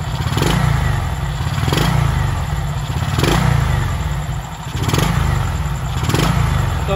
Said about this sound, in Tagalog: Pag tumatakbo na yung motor,